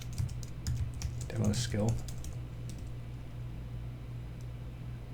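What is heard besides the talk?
typing a skill name on a computer keyboard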